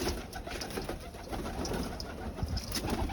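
Pigeons coo softly and repeatedly, several birds overlapping in a low, throaty murmur inside a loft, against a busy background of rustling and movement.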